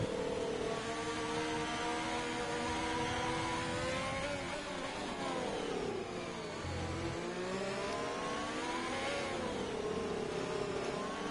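Formula 1 car engine in a racing video game at Interlagos, revving loud and continuous with rising and falling pitch through gear changes, alone without voices.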